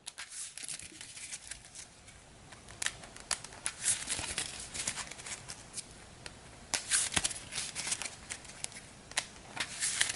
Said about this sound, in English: So we'll go ahead and give this a quick shuffle.